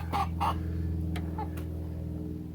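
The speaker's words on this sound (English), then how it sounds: "we got our broody chicken here, broody hen" A broody hen in an urban backyard coop gives a few soft, spaced clucks over a steady low hum, probably from the coop heaters.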